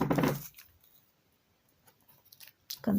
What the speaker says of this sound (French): On va rajouter une bande de scotch papier.